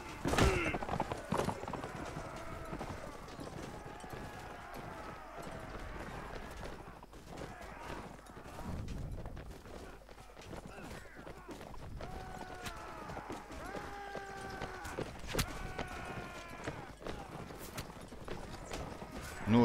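Horses gallop in a medieval battle in Mount & Blade: Warband with the Total War mod, their hooves clattering steadily at mid distance alongside neighs and shouted battle cries under continuous game noise.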